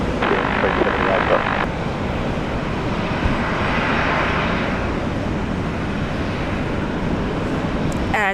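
An aircraft takes off at Brisbane Airport during a storm, a loud continuous jet engine roar that swells and holds under windy, rumbling background noise.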